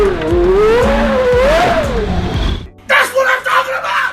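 A Porsche Carrera GT's 5.7-liter V10, adapted from a cancelled LMP1 endurance racer, revs up in a loud rising wail that sweeps higher and falls back, then cuts off. Shorter blips and a voice follow.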